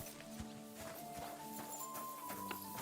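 A horse walks in the video game Kingdom Come Deliverance 2, its hooves giving a steady, moderately close clip-clop for a few seconds over a soft game ambience.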